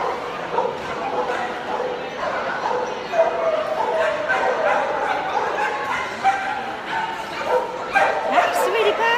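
Puppies at a New York adoption event yip, whimper and bark in a busy run of high-pitched calls, some near and some farther off, with people's voices mixed in around them.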